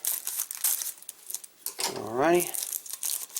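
Tough plastic packaging around a laptop hard drive crinkles and crackles as scissors cut through it, in close, uneven bursts, while someone speaks briefly.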